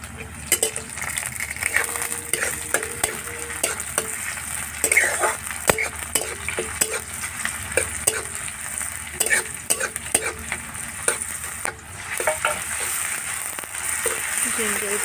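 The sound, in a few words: ginger, garlic and chili paste frying in a pan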